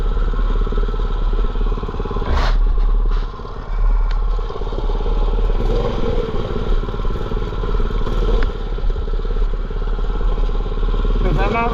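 A small mini bike engine runs steadily with a low, putt-putting drone and some rattling, close and fairly loud, with a person talking over it.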